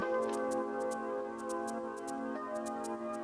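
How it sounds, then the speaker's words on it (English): Light computer mouse clicks tap out in quick pairs and small bursts, faint and close, over a steady background hum with no talk. "I start clicking on the ones that I want"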